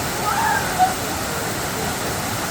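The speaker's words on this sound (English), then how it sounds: "I want to walk in front of the waterfall" A waterfall along the Road to Hana in Hawaii roars as a steady, broad rush of falling water, loud and close, with voices briefly heard over it.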